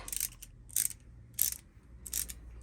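Cheap small ratchet spanners are handled in a portable toolbox, giving four short separate bursts of metallic clicking, close up and fairly quiet, with no voices.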